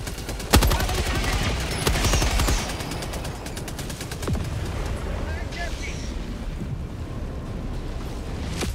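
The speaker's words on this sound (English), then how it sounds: "The sentry turrets will fire at all enemies, but they completely ignore friendly fire and will absolutely wreck players." Sentry turret fire in Helldivers 2: rapid bursts of automatic gunfire rattle in the first few seconds, then continue more sparsely amid thuds and explosions, with a voice speaking at times over the combat.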